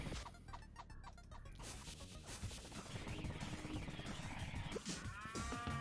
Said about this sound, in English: With cows. Well, of course there's cows.